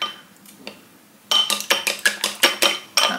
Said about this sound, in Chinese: 在碗中打入两个鸡蛋，打一下蛋，但是不要打得很碎